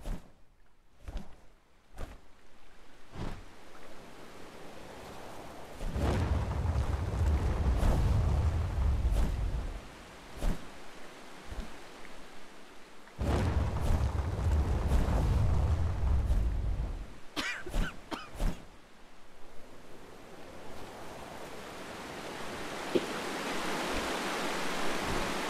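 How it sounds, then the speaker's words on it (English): A waterfall in the video game First Dwarf gives two long bursts of low, heavy rushing water, each several seconds long. Clicks and thuds sit between them, and a softer broadband wash rises toward the end. "I think this is the waterfall they were talking about"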